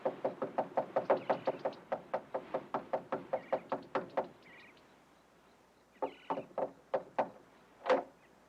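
Knocking on a front door in a 1969 psychological thriller film: a long run of steady, evenly spaced knocks, a pause, then a shorter, more uneven series of knocks, close and distinct with no voices.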